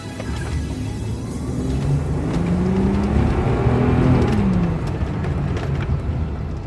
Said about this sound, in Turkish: Araç kış modunda gaza tam olarak basacağım